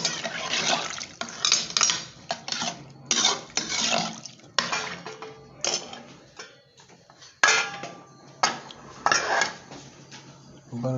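Ridge gourd sambar is stirred in a metal pot, with a ladle scraping and clinking against the sides in irregular bursts and wet sloshing between the strokes.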